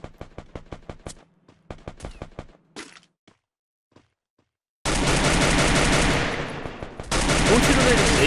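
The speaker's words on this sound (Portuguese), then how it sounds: "Tá atirando em mim." Gunfire in the video game Free Fire: sharp rapid shots in quick bursts, then sparse single cracks and a pause, followed by a loud sustained barrage of continuous automatic fire.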